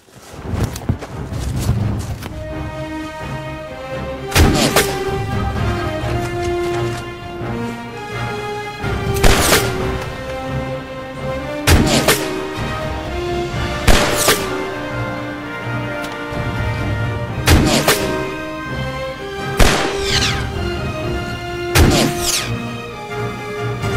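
Bursts of covering gunfire in a Pakistani action film scene, sharp loud cracks repeating every few seconds over a sustained musical score, with no talking.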